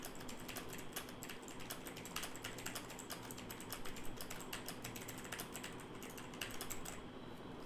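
Touch typing on a computer keyboard during a timed Monkey Type test, a fast, steady stream of close key clicks with no talk.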